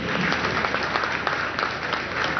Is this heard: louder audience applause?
yes